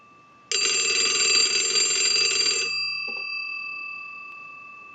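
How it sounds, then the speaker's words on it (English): A repaired Western Electric Lineman 2M magneto bell box rings loudly and close for about two seconds, a dense metallic clatter of the bells that stops and leaves a fading ringing tone. "So now we know that the bell box will ring on the low setting and the high setting of the analyzer."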